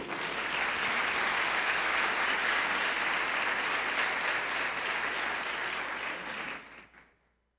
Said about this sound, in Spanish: Dale palmas a Cristo.